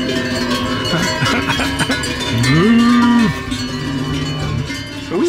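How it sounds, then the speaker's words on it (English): Cowbells clank and jangle continuously as cattle cross close by on a road in Switzerland, with a loud drawn-out moo in the middle and a shorter one at the end. "Lots of cows coming across with their bells on."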